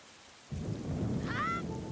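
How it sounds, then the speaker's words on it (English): Rain and thunder in the video game Wind Waker HD start abruptly as a steady wash of rainfall, with a low rumble underneath. "Rain sounds nice."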